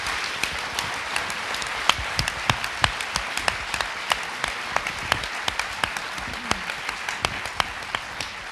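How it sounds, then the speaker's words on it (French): Audience applause at a ceremony for signing an Alzheimer's ethics charter, a moderate crowd clapping steadily with a few sharper, distinct claps standing out above the wash. "c'est une personnalité que je vous demande vraiment d'applaudir"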